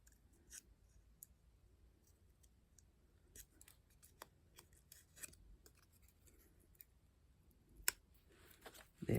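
Scissors trimming the white edge off a paper butterfly for a budget journal: faint, sparse snips and small clicks scattered over a quiet background, close but soft, with a sharper snip near the end and no talking.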